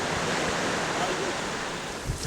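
Cold glacial meltwater stream rushing through a valley in northern Pakistan along the Karakoram Highway, a steady dense wash of flowing water close by.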